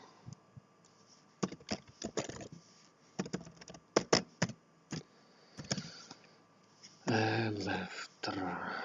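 Name being typed on a computer keyboard while modelling furniture in SketchUp: irregular bursts of close, sharp key clicks and taps, with brief pauses between them, followed by a louder, denser stretch of clatter near the end.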